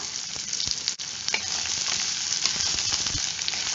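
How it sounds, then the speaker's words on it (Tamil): Onion, garlic and green chilli sauté in oil in a pan for a brinjal, drumstick and potato gravy, giving a loud continuous sizzle with scattered pops and a brief stirring scrape. No one speaks. "இது எல்லாம் கலர் மாதிரி வர்ற அளவுக்கு நம்ம வதக்கிக்கலாம்"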